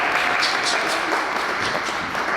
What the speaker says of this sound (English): A round of applause for coming out today.